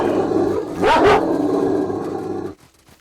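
Dogs in the video game Stalker Narodnaya Solyanka let out a loud burst of barking and whimpering yips over steady game ambience, and the sound cuts off abruptly near the end.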